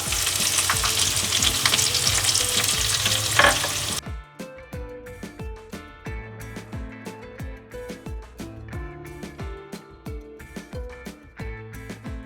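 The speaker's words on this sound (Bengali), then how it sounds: "দেখো আলুটা লাল লাল করে ফ্রাই হয়ে গেছে" Potatoes fry in a pan, first as a loud, hissing sizzle, then quieter crackling with rhythmic stirring scrapes once onion and chopped chili are added.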